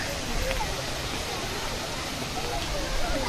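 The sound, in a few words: waterfall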